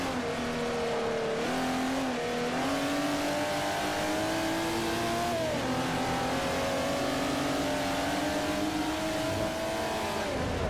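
Jaguar race car in Forza Motorsport 4 lapping Silverstone, its engine droning loud and continuous with rising and falling pitch as it revs through gear changes, no talking.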